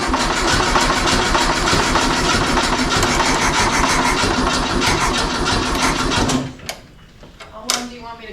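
A twenty-year-dormant Volkswagen Beetle engine cranks and runs with a steady, busy mechanical clatter, loud and close, then cuts off abruptly near the end, leaving a few faint knocks and a short voice.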